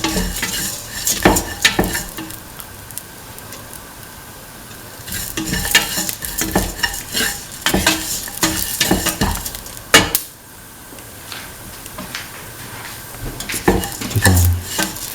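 Green chillies and salt are stirred through cumin rice in a frying pan, with repeated close scrapes and clinks of a utensil against the pan over a low sizzle, in bursts with brief pauses and no talk.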